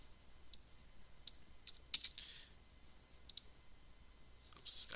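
Sparse computer keyboard typing while entering a formula in an Excel spreadsheet, a handful of scattered light key clicks over quiet background, close and faint, with no voice.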